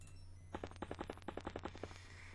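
Rapid burst of gunfire in the strategy video game XCOM Enemy Unknown, about a dozen sharp shots in quick succession over a steady low hum, fairly faint, with no talking.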